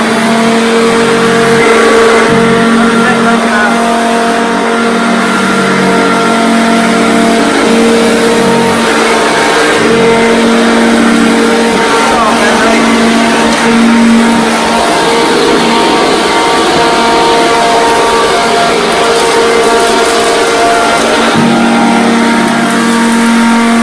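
A c1965 Hoover Junior 1334A upright vacuum cleaner runs loud and steady at close range, a continuous motor drone with a pronounced tonal hum that barely changes from start to finish.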